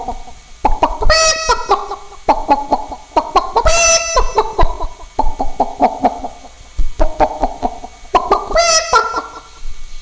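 A man imitates a hen clucking after laying an egg, with bursts of rapid clucks rising to sharp high squawks, repeated several times, loud and close with short pauses between calls.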